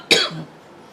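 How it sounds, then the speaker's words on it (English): A single short, sharp cough from a woman close by, one burst trailing off quickly into quiet. "COVID cough."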